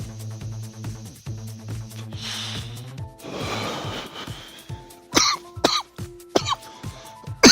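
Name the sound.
coughing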